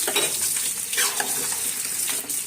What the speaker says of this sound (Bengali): বন্ধুরা আমি মাছের সাথে কচুটা ভালোভাবে মিশিয়ে নিই।